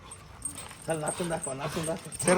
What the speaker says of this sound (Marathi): एवढ्या कुत्र्यांची टोळी आली, आखे भेटतील तुझ्या अंगावर